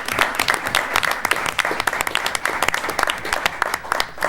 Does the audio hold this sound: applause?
yes